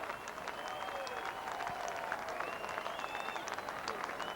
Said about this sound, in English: Filippo getting a good round of applause from this Cougar crowd tonight here